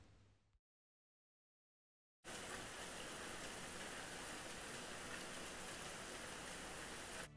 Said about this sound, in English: I wanted you to enjoy the rain.